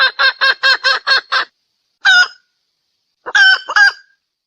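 A hen clucks in quick, sharp bursts: a fast run of seven, a lone cluck, then a short cluster. The sounds are close and clear against silence.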